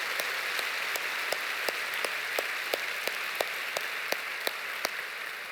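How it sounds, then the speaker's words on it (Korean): Congregation clapping at a Friday overnight worship service at Suyeong-ro Church, a dense steady wash of applause with a few sharper distinct claps standing out in a loose rhythm, sustained throughout. "박수 쳐주세요."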